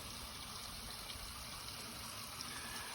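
Water leaking from a 2014 Infiniti QX50 radiator during a pressure test, a steady broadband trickle and hiss that runs unbroken and fairly close for the whole stretch, with no voices.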